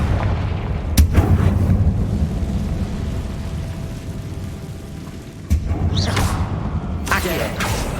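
Fiery Confringo blasting-spell explosions in the video game Hogwarts Legacy, with booming impacts at about one and five and a half seconds and rumbling aftermath over crackling game ambience and a brief voice.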